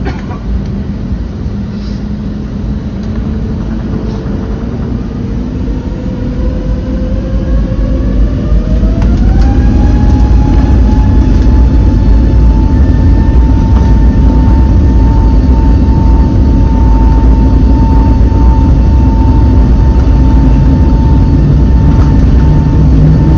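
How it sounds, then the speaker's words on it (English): A British Airways jet takes off from runway 27R at Heathrow, heard from inside the cabin. A steady, loud engine roar swells as the turbines spool up, with a whine that climbs in pitch and then holds through the takeoff roll. "we were lining up on runway 27 right, and it was time to take to the air again"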